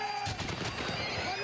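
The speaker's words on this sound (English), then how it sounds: "we're getting ready for this live fire volley" A live-fire musket volley at a settlers reenactment crashes out as one loud, close, ragged blast that fills the whole moment and rolls on into a sustained roar.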